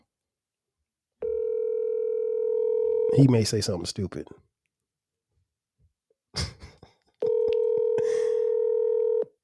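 Telephone call placed from a podcast studio: a steady dial tone runs for a couple of seconds, broken by a burst of keypad tones and a voice, then a short gap and the tone sounding again.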